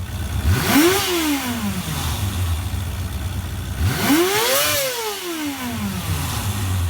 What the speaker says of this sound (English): if you get it to its redline, it sounds like a GP bike. It's not moving anywhere, but it's loud